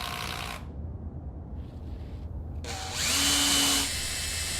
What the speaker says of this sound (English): change to a 6mm wall drill and drill holes for the installation screws in the jamb